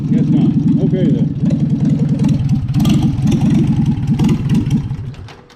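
A Farmall B tractor engine cranks and catches, a rapid, loud chugging pulse close by that runs steadily for several seconds before fading out at the end.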